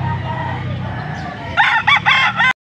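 A seven-month-old stag gamecock at a gamefowl sale in Angeles, Pampanga gives one close, loud crow in the last second, after a low murmur of background noise.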